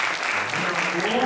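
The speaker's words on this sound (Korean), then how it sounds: "박수 한번" A church congregation applauds to welcome a first-time visitor at a Sunday service, a brief burst of clapping heard beneath a speaking voice.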